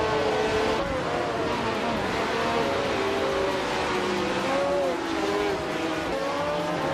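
A Brabham BT34 race car drives at speed, its engine note rising and falling through gear changes, loud and close over a steady roar of track noise.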